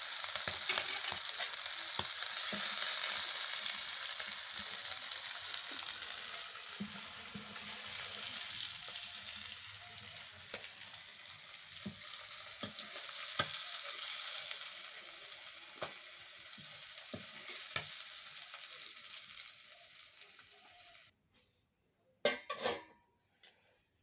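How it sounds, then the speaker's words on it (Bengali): Chicken liver frying in oil in a pan, a steady close sizzle with occasional soft stirring scrapes, fading to a few sharp clanks of the pan near the end. "মেটেটা দিয়েও আমি 2 মিনিট মতো কষিয়ে নিয়েছি।"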